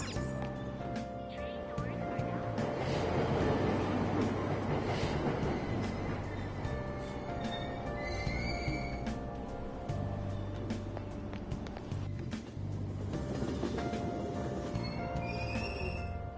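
A Tokyo subway train at Aoyama Itchome station, with door chimes, a door-closing announcement and the rumble of the train pulling away, a continuous mix of mechanical noise and electronic tones under a recorded voice.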